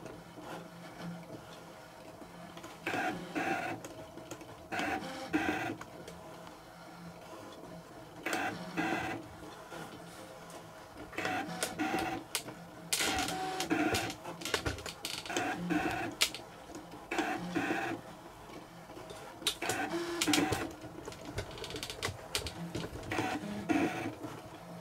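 Brother ScanNCut cutting machine tracing the outline of a fox motif: quiet bursts of motor whirring and mechanical buzzing start and stop repeatedly over about 25 seconds, separated by short near-silent pauses, with no talk.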